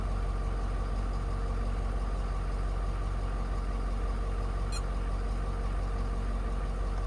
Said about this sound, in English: Truck started right up.